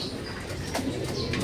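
Pigeons coo softly close by over a dense background of bird noise, with a few quick bursts of wing flapping in this short moment.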